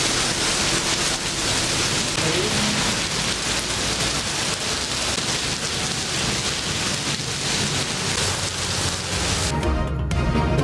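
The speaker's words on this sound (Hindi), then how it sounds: "घनघोर घटाएं, ठंडी हवाएं और मौसलाधार बारिश।" Torrential rain pours steadily and loudly over Islamabad and Rawalpindi, a dense, unbroken roar of downpour on surfaces with no voices, easing slightly only at the very end.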